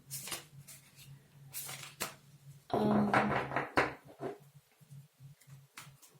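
A Tarot Z tarot card deck, brand new and still in its original order, is shuffled by hand in quiet, soft riffling bursts and one louder flurry of cards, with light handling taps and low room hum between.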